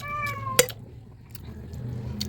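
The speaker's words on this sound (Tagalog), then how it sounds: "Ayan ang pusa namin guys, ang pusa." A house cat meows once, a short bright cry near the microphone in a home kitchen, with faint background hum and a few soft clicks around it.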